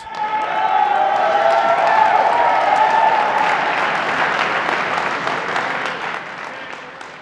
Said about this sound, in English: One more round of applause for your competitors.